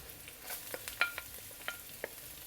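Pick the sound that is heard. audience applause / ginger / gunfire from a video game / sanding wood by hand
ginger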